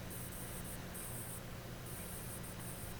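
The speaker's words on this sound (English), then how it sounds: "So still working on our second coat of sealer." Short bursts of aerosol sealer sprayed onto a Hot Wheels 1950 Chevy pickup die-cast model, hissing steadily in a few close pulses with brief gaps.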